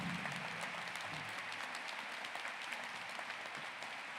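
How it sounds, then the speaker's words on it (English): A large audience at a White Coat Ceremony in Pittsburgh applauds steadily to welcome Dr. Gordon Vanscoy to the podium, a dense, even wash of clapping that fills the hall without pause and with no talking. "please give a round of applause to Dr. Vanscoy as we welcome him to the podium"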